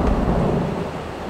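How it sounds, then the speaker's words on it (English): Heavy rain pours steadily during a severe thunderstorm with gusting wind, a dense, loud low rumble that fills the whole stretch with no voices. "it is just flat out pouring."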